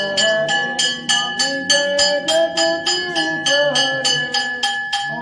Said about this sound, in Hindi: आप लोग खड़े हो जाओ आरती करो घंटा बजाओ भैया घंटा